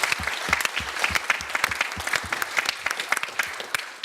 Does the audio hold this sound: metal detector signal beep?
no